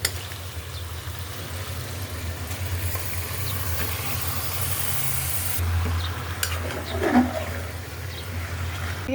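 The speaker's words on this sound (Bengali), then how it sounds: "দিয়ে দিলাম গরুর গোশটা," Beef sizzles in hot spiced oil in a pan with garam masala, a steady broad hiss of frying that holds throughout, with occasional stirring scrapes and small crackles near the end.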